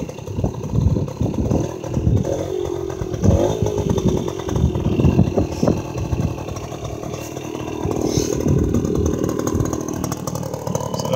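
A 1971 Suzuki MT 50 Trailhopper motorcycle idles after a cold start, its small engine putting out a steady, buzzy, slightly uneven putter close by, with no talking.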